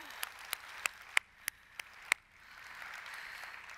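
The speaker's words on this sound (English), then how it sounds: "Give Sarah another round of applause." A handful of separate, faint hand claps from a conference audience at a national education leadership summit plenary. Seven or so isolated claps come at uneven intervals, then they give way to quiet room murmur.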